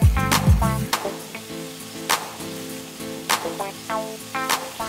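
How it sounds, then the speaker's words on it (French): Bacon and onions fry in hot oil with a steady close sizzle, broken by a few sharp clatters as they are stirred, and a low tonal hum runs underneath. "on va faire revenir dans de l'huile chaude séparément le bacon et les oignons."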